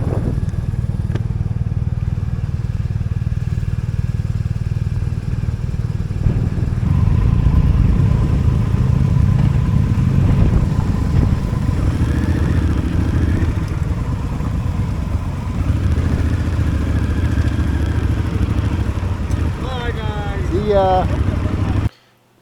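Motorcycles ride together on a road in Mexico, a loud continuous engine drone with wind rush that holds steady for about twenty seconds, a faint rising whine near the end, then it cuts out abruptly.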